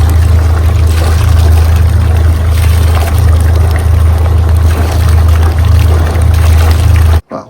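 Water trickling and splashing steadily from the raw water pump of a Yanmar 4JH marine diesel with its bolts loosened, a continuous pouring flow over a low hum, close and loud, stopping abruptly at the end.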